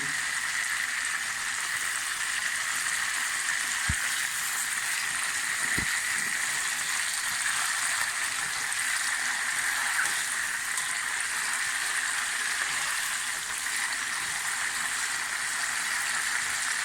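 Chicken legs fry in a pan with a steady, even sizzling hiss that holds throughout, broken only by two faint clicks, with no voices.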